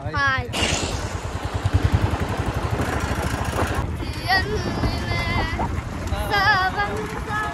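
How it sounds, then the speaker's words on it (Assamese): Motorbike ride on a borrowed uncle's bike in Assam, with a steady low engine drone and rushing wind throughout, while people talk loudly over it for most of the ride. "দাস আৰু মই পুৰা মামাৰ বাইক খান লৈ ফুৰি আছো"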